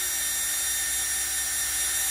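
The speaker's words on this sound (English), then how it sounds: "then we're going to drill through that" A drill boring a pilot hole through an uneven metal surface next to a bolt runs as a steady, continuous high-pitched whine with a constant hum, close and alone without talk.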